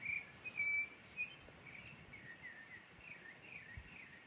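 Birdsong in open natural countryside away from the city: faint, thin whistled calls repeating at a distance over a quiet outdoor hush, with brief louder chirps early on.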